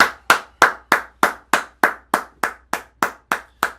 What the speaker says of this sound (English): you should all get a very quick round of applause.